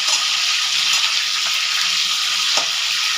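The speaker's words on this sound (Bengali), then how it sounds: "ভেজে নিচ্ছি আজকে মাংসটা" Chicken pieces frying in a pan for a spiced chicken kosha, giving a steady, close, dense sizzle and crackle that runs without pause, with a few faint clinks near the end.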